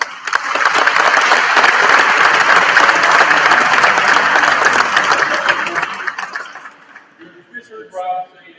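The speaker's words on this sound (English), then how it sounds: "Big round of applause." Loud audience applause at the opening of an event centre, a dense crowd of clapping and cheering that holds strong for several seconds, then fades as a voice begins speaking.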